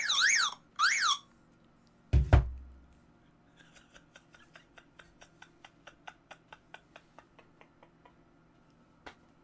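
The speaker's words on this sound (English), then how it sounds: "So that alarm would go off telling me I have to leave my house." A phone alarm goes off as two short warbling electronic bursts, loud and close, then a heavy thump and a run of steady, evenly spaced ticks.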